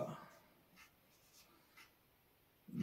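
Quiet pen or pencil scratches while music notation is written out by hand for a Raag Malkauns dhamar, a few short strokes over faint room noise, with a voice starting at the end.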